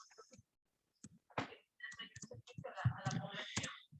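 Clicks of typing on an English-layout computer keyboard, a run of quick, uneven keystrokes that start sparse and grow denser, close and fairly quiet in a small room.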